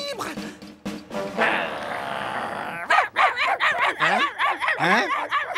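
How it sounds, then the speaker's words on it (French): Several cartoon dogs bark, yip and growl in rapid overlapping bursts from a French animated series, loud and close, with some voiced yelping after an earlier stretch of noise. "c'est sur moi que vous aboyez là"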